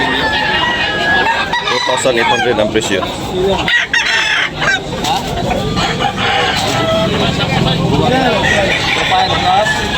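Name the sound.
rooster at a chicken market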